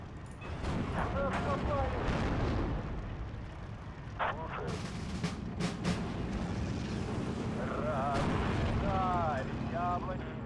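A tank battle in the Steel Division 2 video game gives continuous rumbling gunfire and heavy booms, with sharp whistling shots cutting through a dense, loud battle din.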